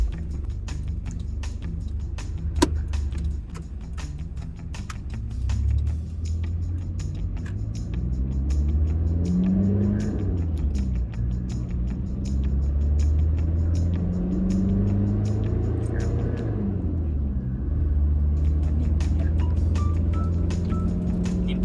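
A 20-year-old Mitsubishi Strada 4x4 pickup with upgraded suspension rumbles along on a test drive, its engine rising and falling steadily through gear changes, heard from inside at moderate loudness.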